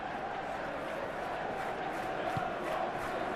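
A stadium crowd roars in the football game PES 21 before a Manchester City versus Newcastle United cup semi-final, a steady, dense wall of chanting and cheering that stays loud throughout with no clear speech on top.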